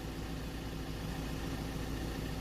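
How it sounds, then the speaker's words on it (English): A Ford Transit Custom 2.2 diesel van with a recurring DPF and MAF fault idles steadily, a continuous low rumbling drone with even engine vibration and no voices. "So we're just letting the vehicle idle for a minute, let it cool down"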